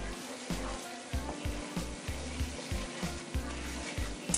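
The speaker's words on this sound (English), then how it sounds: "Just keep on stirring it." Pork chop drippings sizzle steadily in a skillet while being stirred, with a continuous frying hiss broken by regular scraping strokes roughly every half second, close and moderately quiet.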